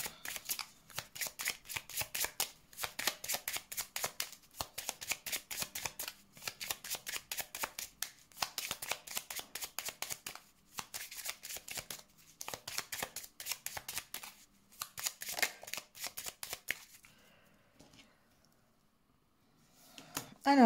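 A deck of Lenormand oracle cards is shuffled close up in rapid, repeated riffling bursts with short gaps between them. The shuffling goes on for most of the clip, then stops and leaves near-silence.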